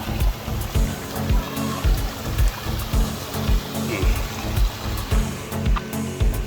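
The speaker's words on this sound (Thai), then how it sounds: "โอ้ เห็นน้ำตกแล้ว นี่ก็สวยนะ" Rushing water at a scenic waterfall in Fak Tha district, Uttaradit, Thailand, a steady broadband roar with a rhythmic low pulsing, fairly loud and close, with no clear talk over it.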